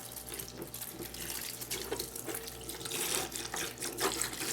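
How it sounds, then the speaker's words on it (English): Water runs from a tap into a sink, a close, steady splashing stream that grows a little louder and busier toward the end. "Good flow of water."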